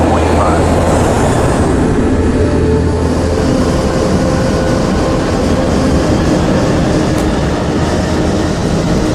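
Airliner engines droning steadily as the jet taxis toward the runway, a loud continuous low rumble with broadband roar filling the whole stretch, no breaks.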